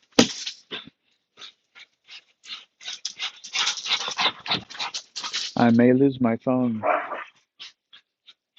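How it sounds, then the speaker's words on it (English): Dogs playing roughly outdoors in cool weather pant and scuffle in quick bursts, with yips and a brief whimpering whine, close by, while a person talks intermittently. "So, yeah, the dogs are going at it."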